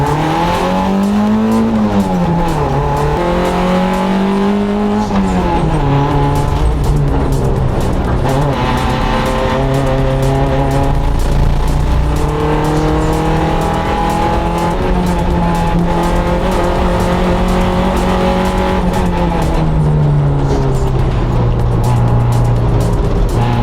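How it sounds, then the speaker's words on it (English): A race car drives hard around a track during an evening ride session, its engine roaring steadily and climbing and falling through the gears, loud and close throughout with tire noise. "Back out in the race car for the evening ride session,"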